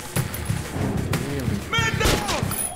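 Incendiary-round gunfire in the video game Metro Redux: a rapid string of sharp thumping shots in quick bursts, loud and close, with a player talking over parts of it.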